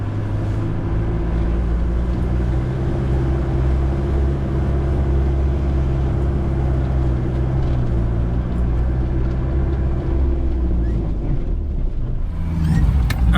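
Land Rover driving on a bush track in Katavi, with a steady loud low engine and road rumble throughout and no voices.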